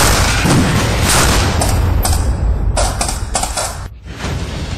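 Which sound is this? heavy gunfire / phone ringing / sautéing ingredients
heavy gunfire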